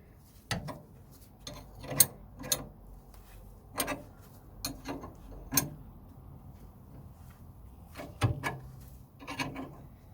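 A ball joint press is screwed down on a VW T3 steering knuckle, producing quiet, intermittent creaks, rubs and ticks in short bursts as the threaded tool is turned.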